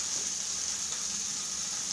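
Rabbit meat frying in a pan, a steady, even sizzle with a bright hiss that holds at constant loudness, close and alone with no voices.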